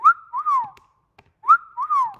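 A person gives a loud, clear two-note wolf whistle, a rising note then a long falling one, twice with a short pause between.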